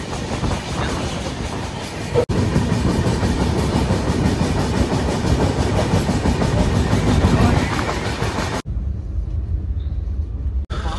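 A train rumbles along loudly and steadily with rhythmic rattling, heard from inside a carriage; the noise drops abruptly near the end.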